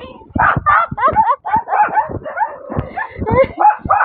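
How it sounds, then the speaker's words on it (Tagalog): Several dogs bark and yip in quick, overlapping bursts close by, an agitated chorus of barks and whines. "Nagagalit yung mga aso."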